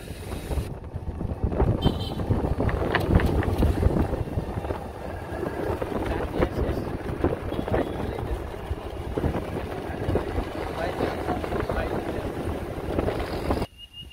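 Outdoor wind in a village setting gusts and buffets the microphone with steady low rumbling for most of the stretch, then drops away abruptly at the end.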